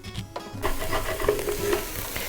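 Salted onion in a pot on the cooker sizzles in a steady, close frying hiss, with a brief stir and scrape as it starts. No one talks.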